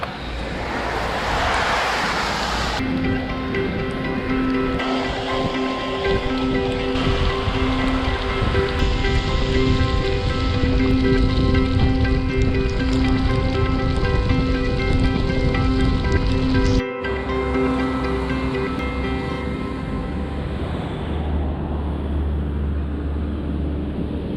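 Steady rain drums on a surface alongside a constant engine drone with tonal hum, heard while cycling on a mountain road, continuous and fairly loud throughout, with a brief break near the end.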